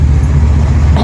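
A vehicle engine idles steadily nearby, a continuous low rumble with no talk over it, just before the driver is asked to switch it off.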